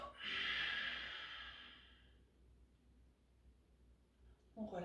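A long, loud breath is released slowly through the nose and mouth during a yoga breathing exercise, close to the microphone, fading over about two seconds into quiet before a faint new breath begins.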